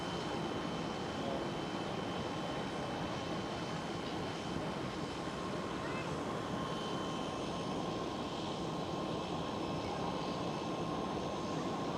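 A Pegasus Airbus A321neo on runway 18 Left at Schiphol Amsterdam gives off a steady, broad jet engine roar heard from a distance, constant and unbroken with no voices.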